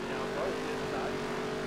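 Engines of NASCAR race cars droning steadily in a racing video game, a continuous tonal hum with faint rising pitch sweeps, moderately loud under a speaking voice.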